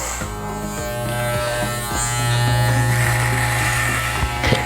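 An electric hair clipper fitted with a #1 guard shaves a head, its steady close buzz running continuously with slight shifts in pitch and strength as it moves across the scalp.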